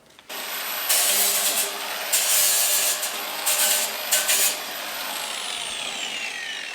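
An angle grinder fitted with an old, worn sanding disc knocks small burrs off metal tube while building a hay feeder from an IBC tote; loud, close bursts of high whining abrasion, several short passes separated by brief pauses.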